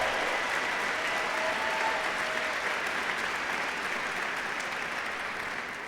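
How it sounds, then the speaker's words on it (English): A large live-event audience of about 1,200 people gives sustained applause, a dense, even wash of clapping that holds steady for several seconds and eases slightly at the end, with no talk over it. "I was going to tell you guys to clap, so you totally stole my thunder."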